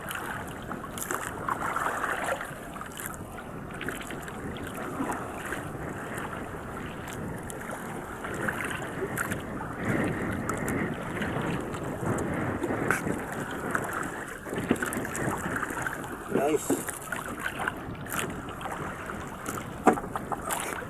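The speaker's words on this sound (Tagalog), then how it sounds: "Alon na naman guys, oh. Lakas naman ng hangin." Strong wind buffets the microphone while waves slap and wash around a small fishing boat at sea, a continuous rough rushing that swells and eases without letup.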